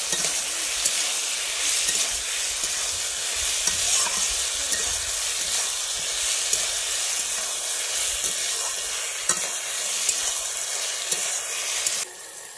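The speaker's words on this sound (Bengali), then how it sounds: "আদাটাকে ভালোভাবে ভেজে নেব যাতে আদার কাঁচা গন্ধটা চলে যায়।" Ginger paste frying in hot oil in a pan, a loud, even, hissing sizzle close up with a few light stirring taps throughout, no voices.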